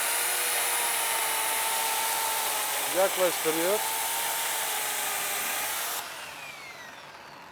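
A DShopping Max Ekstra electric chainsaw runs with a steady, loud motor whine as it cuts wood, a voice briefly speaking over it before the motor cuts off near the end.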